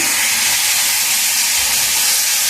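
Hilsa fish coated in mustard, cumin, green chilli and raw mustard oil sizzles steadily in a wok, a loud continuous hiss of frying oil that holds without pause and without any talk.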